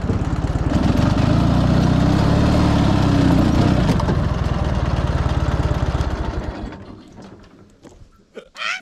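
A car engine drones loud and steady from inside the vehicle while driving, then fades and drops away near the end as a few brief knocks and rustles follow.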